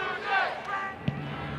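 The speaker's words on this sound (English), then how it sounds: "Crowd with a Blue Jay chant," Spectators at a women's college soccer match between Villanova and Creighton at Morrison Stadium chant together for the Creighton Blue Jays. The broad, sustained crowd voices fill the stadium briefly, and a single thud is heard near the end.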